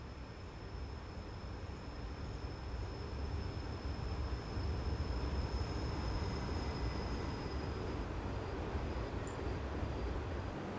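A Rhaetian Railway train in Train Simulator rumbles across a bridge on the Albula Line, a steady rolling roar that swells slightly and holds, with a faint high whine running through it.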